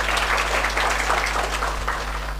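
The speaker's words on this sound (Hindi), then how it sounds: "तालियां बजा दो" A class of interview-preparation students claps for a correct answer, a brief burst of brisk, fairly loud applause from a small group lasting a couple of seconds with no voices over it.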